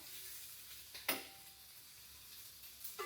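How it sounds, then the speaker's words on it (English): Prosciutto frying in a pan for breakfast, a faint steady sizzle throughout with a couple of sharper clinks or pops, no voices. "This prosciutto is almost done cooking."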